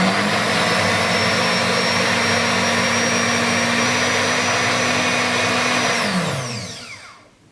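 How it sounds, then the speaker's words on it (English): A blender pulping paper in water whirs at a steady high pitch for several seconds, loud and close, then winds down and stops. "and then put into a blender"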